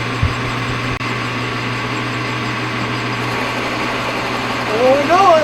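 A lathe turns a shaft between centers on a first cut, giving a steady, moderate motor hum with a light cutting rasp, as a voice speaks briefly near the end.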